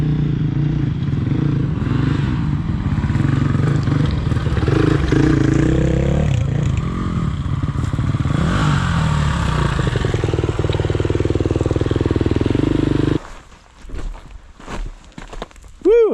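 A Suzuki DRZ400S dirt bike's engine drones loud and steady while riding through the desert, then cuts off abruptly near the end, leaving quieter rustling and clatter.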